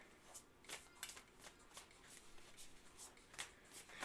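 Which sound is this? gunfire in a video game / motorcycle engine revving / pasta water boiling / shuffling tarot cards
shuffling tarot cards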